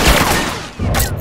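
Short loud burst of close gunfire in The Last of Us, a rapid cluster of shots that fades and then fires again within about a second.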